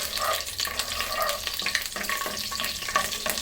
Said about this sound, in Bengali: এখন গরম মশলাটা একটু এই দু মিনিটের জন্য একটু ভেজে নিলে